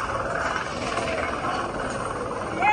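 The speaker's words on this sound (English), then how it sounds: "So ito yung helicopter ng PNP. Patuloy na nag-monitor sa atin." A Philippine National Police helicopter flies overhead, its steady rotor and engine roar filling the clip as a continuous broadband drone that swells slightly at the very end.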